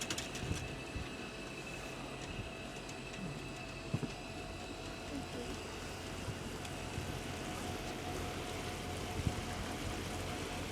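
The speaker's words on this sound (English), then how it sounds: "The sound of the waves." Steady broadband wash of surf and wind at Chesapeake Bay, a continuous rushing roar with no clear breaks, fairly distant and even in level.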